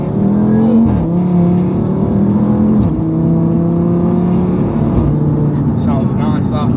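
An Audi RS3 8V fitted with a Milltek downpipe and Forge Motorsport intercooler revs loudly and close, its rasping engine note holding steady, then dipping and climbing between throttle blips.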